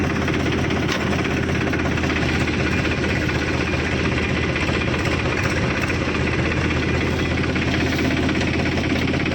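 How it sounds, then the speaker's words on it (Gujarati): An overheated tractor engine runs steadily at close range, a loud, constant rumbling drone with no pauses. "હાલો ટ્રેક્ટર ગરમ થઈ ગયું યાર"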